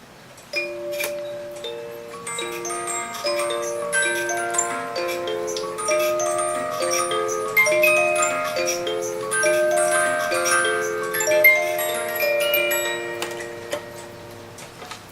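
A KUNER cuckoo clock runs with steady ticking beneath a bright chiming tune of sustained metallic notes, close and fairly loud throughout.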